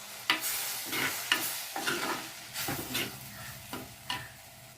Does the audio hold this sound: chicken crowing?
no